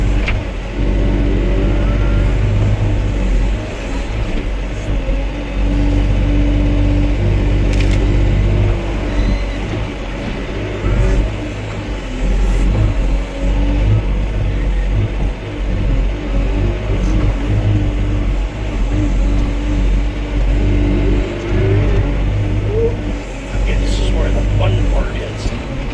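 A heavy excavator engine runs steadily at a mountain site as the machine digs and clears, a loud low drone with rising and falling revs as it swings and dumps dirt, with people talking over it.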